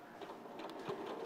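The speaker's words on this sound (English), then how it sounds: "I'm going to stitch that raw edge down with my sewing machine all the way down to the bottom" A sewing machine stitches down a raw fabric edge, a steady close mechanical whir with faint rhythmic needle ticking and no talk.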